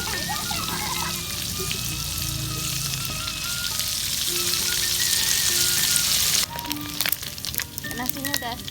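Eggplant, tempe and boiled salted fish frying half-done in hot oil in a pan, a steady close sizzle with crackling pops throughout, shifting sharper near the end as food is stirred, with faint voices in the background.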